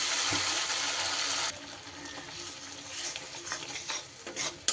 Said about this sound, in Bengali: এবার সুন্দর করে একটু মশলাটাকে আমার কষিয়ে নিতে হবে।